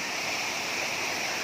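Bongolanon Waterfall in Magpet, North Cotabato, gives a steady, full roar of falling water, broadband and unbroken across the whole moment with no voices over it.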